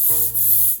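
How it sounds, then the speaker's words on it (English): Cooking spray hisses in one steady burst into a caramel frame in a pastry kitchen, a close, continuous airy spray lasting under a second with no talking. "Cooking spray."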